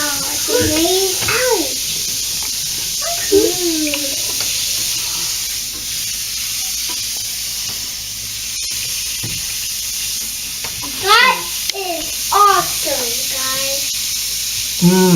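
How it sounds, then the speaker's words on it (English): A homemade Easter egg bath bomb fizzes in bath water with a constant close hiss, while children's voices chatter and exclaim over it in bursts. "I realized this is bubbling way more, like fizzing way more than a regular bath bomb would"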